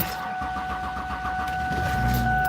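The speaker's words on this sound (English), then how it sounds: "Turn the car on." A car's engine turning over and starting, a steady mechanical drone with a low rumble that builds near the end, heard from inside the vehicle with no speech.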